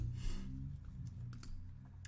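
Typing a website address on a computer keyboard, rapid soft key clicks in an irregular patter over faint room noise, close but quiet, with no talking.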